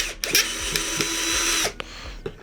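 A Procraft PA212 cordless screwdriver whines steadily at close range for a couple of seconds, then stops, with a few small mechanical clicks around it.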